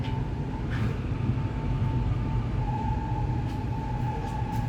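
A KRL KCI SFC120-V commuter train pulling into Sudirman station, a steady low rumble and hum with a sustained tonal whine and a few faint squeals, close and continuous.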